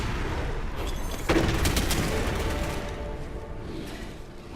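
Pistol and shotgun fire in the online game Gigantic, a burst of sharp shots and booming blasts that rings out and slowly fades under a dense bed of game noise.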